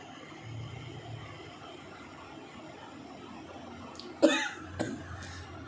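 A person with a sore, hoarse throat, standing in a home kitchen while tea is brewing, gives a sudden loud cough and then a smaller second one, heard close over a quiet background hum.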